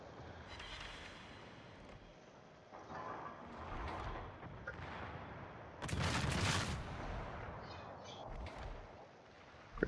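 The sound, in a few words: naval gunfire from warships in a video game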